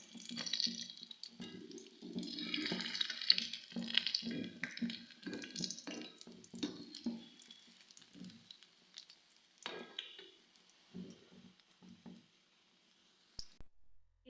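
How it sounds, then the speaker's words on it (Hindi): Donuts fry in hot oil with a quiet, crackling sizzle of bursts and pops that come in irregular clusters, thinning out and fading toward the end. "इस तरह से बाकी जितने भी डोनट हैं मैं तमाम डोनट को अच्छी तरह से फ्राई कर लूँगी।"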